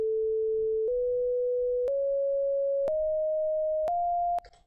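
Pure sine tones generated in Haskell code step upward in pitch, five clean sustained notes each lasting about a second, joined by small clicks at every change, loud and alone before cutting off abruptly.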